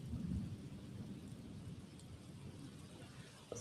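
A thunderstorm rumbles with a heavy roll of thunder at the start, then a steady wash of rain and dripping drops continues, fairly distant and without voices.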